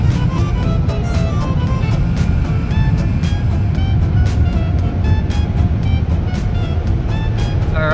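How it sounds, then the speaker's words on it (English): Drying jets at a drive-thru car wash roar loudly and continuously around the car, a dense blowing rush with rapid repeated pulses and occasional tonal whines. "There's the drying jets."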